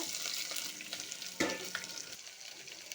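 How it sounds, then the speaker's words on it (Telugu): Thinly sliced onions and green chilies frying in hot oil give a steady close sizzle, broken by one sharp clatter of a utensil against the pan partway through. "అందులోని పచ్చిమిరపకాయలు, ఉల్లిపాయలు అనేవి ఇలా సన్నంగా కోసి వేయించుకోవాలన్నమాట"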